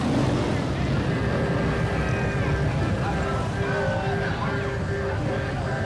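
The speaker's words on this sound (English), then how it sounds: "Once the motorcycles are through," Motorcycles roll past in a small-town parade at the 2017 Brooklet Peanut Festival, making a steady, loud engine drone with shifting tones. Wind buffets the microphone throughout, and voices may sit underneath.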